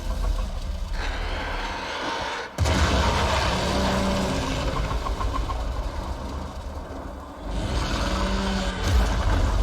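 An explosion in the video game Warframe booms with a sudden heavy blast, followed by continuous low rumbling and mechanical droning, and a second impact near the end.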